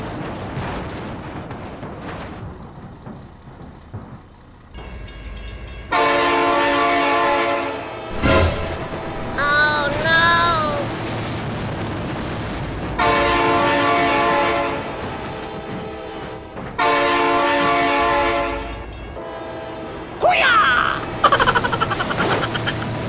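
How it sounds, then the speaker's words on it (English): A train passes close by, sounding its horn in several long, loud blasts separated by pauses, over rumbling and rattling wheels, with a brief whistle-like squeal in between. "Oh my god, train!"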